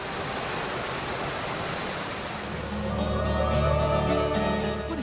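São Romão waterfall in Chapada das Mesas national park, a steady broadband roar of falling water that swells and deepens midway through, alone with no voices.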